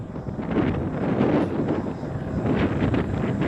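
Wind gusting and roaring inside the tower of a wind turbine in Kilinochchi, Sri Lanka, a steady broadband rush with swelling buffets, heard alone without talk.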